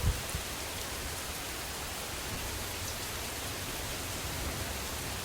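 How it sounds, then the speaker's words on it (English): Heavy rain pours steadily in the game Raincoat, a dense, even hiss of downpour that stays constant throughout with no voices. "The rain pours heavily, soaking the clothes."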